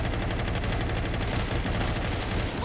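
Rapid automatic gunfire in the Roblox shooter Phantom Forces on console, a dense unbroken rattle of shots at steady loud volume throughout.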